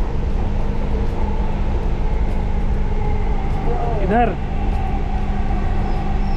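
Steady rumble of a moving Delhi Metro train heard from inside a nearly empty car on the way to Rajiv Chowk, with a brief rising squeal partway through and people talking over it.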